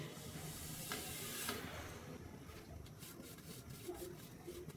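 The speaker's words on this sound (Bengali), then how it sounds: "এবার আমি এর মধ্যে সেমাইটুকু দিয়ে দেব" Vermicelli going into sweetened milk at a rolling boil in a home kitchen, making a soft, steady hiss and bubbling with faint rustling as the strands drop in; quiet and close, with no talking.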